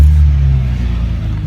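A BMW E46 330Ci Clubsport engine cranks over during a battery cranking test, giving a loud, close, deep rumbling drone that holds steady throughout the brief moment.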